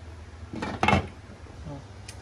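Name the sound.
lid put on cooking pot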